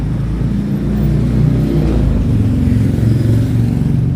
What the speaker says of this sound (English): So that was a loud motorcycle.